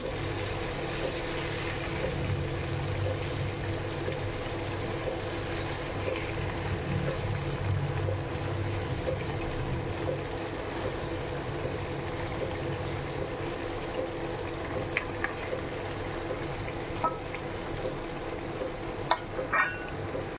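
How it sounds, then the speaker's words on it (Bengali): Chicken pieces frying in a pan, a steady close sizzle and bubbling hiss with soft stirring noises, continuing throughout without talk. "তো চিকেনগুলো এখন আমি ফ্রাই করছি।"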